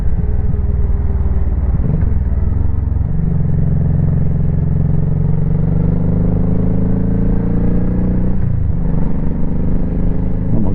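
Honda Shadow Sabre 1100 motorcycle being ridden after repairs, its engine droning steadily and loudly close by, with a couple of gear-change dips where the pitch drops and climbs again under wind rumble.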